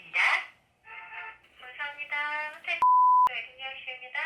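Telephone ringback tone during a call to a wedding hall, a steady beep between bursts of nearby talk.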